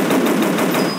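A continuous loud burst of rapid automatic gunfire in the Dinosaur Hunter mobile game, steady and close for about a second.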